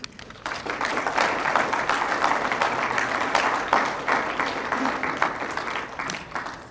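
Guests at the STRIVE scholarship banquet break into sustained applause, a loud, even roar of many hands clapping that starts abruptly and tapers slightly toward the end.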